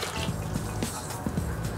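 Purified water pours into a pot of fresh or frozen cranberries, a short liquid trickle with small drips and splashes, close and fairly even.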